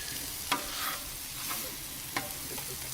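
Hot Italian sausage being broken up and flattened in a pan on a grill, a steady close sizzle with occasional scraping and tapping of a utensil, no one speaking.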